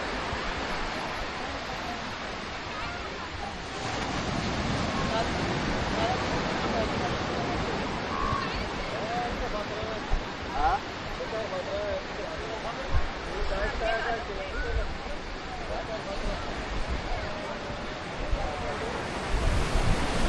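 Ocean surf washing onto the shore at Palolem Beach in Goa, a steady broadband roar of breaking waves with wind buffeting the microphone, constant and fairly loud throughout with brief bumps near the end.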